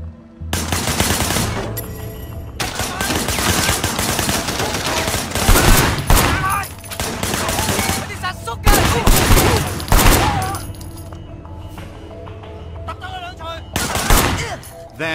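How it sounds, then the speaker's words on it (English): Dense bursts of gunfire rattle almost nonstop in the video game Sleeping Dogs, loud and close, with short pauses between volleys and brief gaps near the end. "Shooting at the guys over there."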